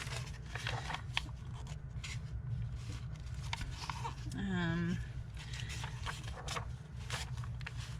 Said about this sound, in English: These little birdhouses. I'll fussy cut those.